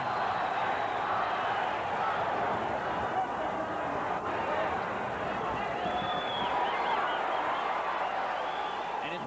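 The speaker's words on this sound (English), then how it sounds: "Crowd chanting, Jorge, Jorge, Jorge." A boxing arena crowd chanting the name of Mexican fighter Jorge Paez, a dense roar of many voices that sounds steady and fairly distant, with a rhythmic swell running underneath throughout.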